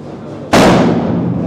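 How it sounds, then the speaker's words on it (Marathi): A single ceremonial cannon blast at the Gavpalan village festival in Aachara, a sudden loud boom that cuts in sharply and then rumbles and decays slowly, preceded by steady outdoor background noise. "तोफी आता वाजलेली आहे"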